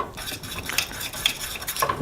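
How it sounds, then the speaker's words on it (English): A spoon's back rubbing chipotle sauce in a bowl, giving soft close scraping and stirring with a few light clinks of metal against the dish, quiet and steady with no talking. "So just kind of rub it all together with the back of a spoon."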